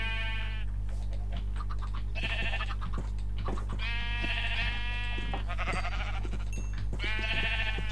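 Repeated blocky sheep bleats from Minecraft, several separate calls spaced through the stretch, each loud and close over a steady low game hum with no talking.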